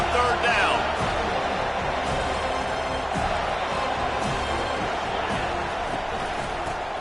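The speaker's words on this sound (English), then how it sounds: "Decibels rising as the crowd gets behind this defense on 3rd down" A packed stadium crowd in a Madden football video game roars as the home defense lines up on third down: a dense, steady wall of noise that stays loud throughout, with scattered thumps and shouts.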